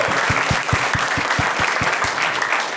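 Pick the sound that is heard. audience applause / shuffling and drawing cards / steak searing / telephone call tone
audience applause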